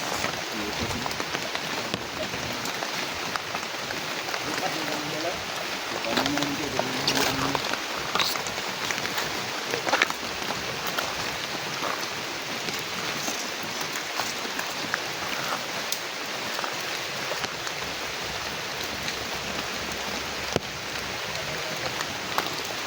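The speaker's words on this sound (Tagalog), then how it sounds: "Baka lalong lumakas yung ulan." Heavy, steady rain pours down continuously in a forest, a dense hiss of drops with faint voices briefly in the background.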